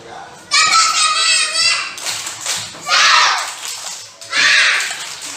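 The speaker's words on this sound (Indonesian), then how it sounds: "kita tepuk semangat sekali lagi ya" A group of schoolchildren chant the rhythmic 'tepuk semangat' cheer outdoors at school, loud young voices in bursts with pauses between lines, clapping mixed into the shouting.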